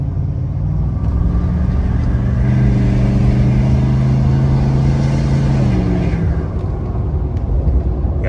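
A tuned Ford F350 pickup with a 6.7 Powerstroke diesel accelerating hard, a loud, close, sustained rumbling roar with rising engine tones that build, hold and then ease off near the end.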